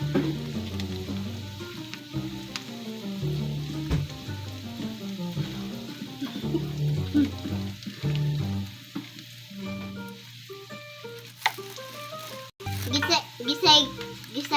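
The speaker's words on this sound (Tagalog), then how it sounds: "Gisa yung mga tomato paste." Tomato paste sizzles and fries in a pan while being stirred for menudo, a steady frying hiss under a voice talking throughout, with clinks of the utensil near the end.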